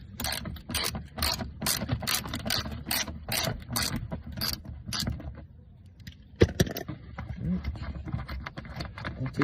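Ratchet loosening bolts on a Mercedes E320 W210 panel, rapid clicking bursts repeating close up in quick runs, with a short pause and a sharp knock midway, and a voice talking in between.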